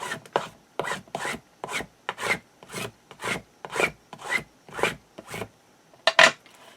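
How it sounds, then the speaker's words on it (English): A burnishing tool is scraped firmly across paper for a mini album in about ten regular strokes, each a short dry rasp with a small pause between, close up and fairly quiet. "Let's get some burnishing done."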